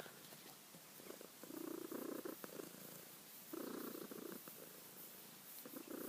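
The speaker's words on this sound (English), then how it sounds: "She has a lovely little purr." A cat purrs softly up close in a quiet room, the steady rumbling coming in a few long pulses with short pauses between them.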